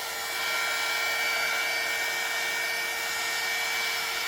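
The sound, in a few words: heat tool warming resin on canvas painting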